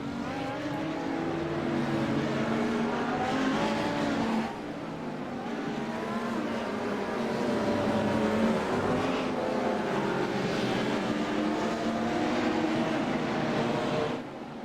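A 14-car field of GT3 race cars runs behind a Porsche pace car on the Detroit street circuit, a steady, loud blend of engine drone and rumble that swells slightly and holds throughout, with no talk.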